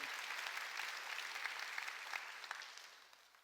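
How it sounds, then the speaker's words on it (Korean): Congregation clapping together during a Korean church sermon, dense steady applause that fades slightly toward the end, fairly faint and without voices. "박수를 하나님께 영광 드리고"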